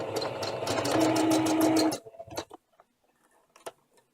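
A sewing machine stitches ribbon in a rapid, steady run of close, even ticks for about two seconds, then stops, leaving a few soft handling clicks and rustles.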